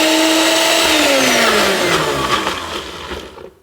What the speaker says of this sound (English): And now I'm just going to put it in the blender and see what it gives us.